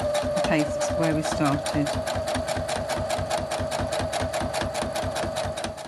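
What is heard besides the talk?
sewing machine stitching fabric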